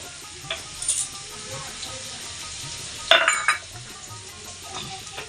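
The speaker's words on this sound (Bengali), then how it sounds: "আজকে আলু দিয়ে আর সিম দিয়ে ভাজা করছি এখানে ভাজা বসে গেছি" Potatoes and flat beans fry in a pan, giving a steady soft sizzle with a couple of sharper clinks and stirring bursts.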